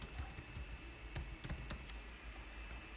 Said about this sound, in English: We should type cd space